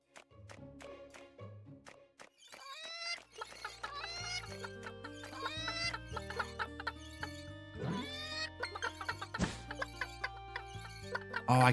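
Chicken clucking in the video game Secrets of Grindea, a run of short clucks over a busy melodic game music track with layered tones.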